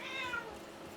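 A house cat gives a single short, close meow that slides downward in pitch, heard over a quiet indoor background.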